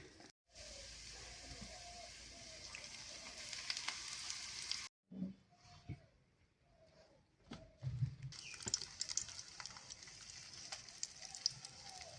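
Beef kebab patties fry in hot oil with a steady, close crackling sizzle that drops out briefly, then returns with louder popping and spatter.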